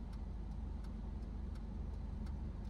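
A car engine hums low and steady on an uphill start as the clutch is slowly released, quiet and even throughout with faint ticking and no talk.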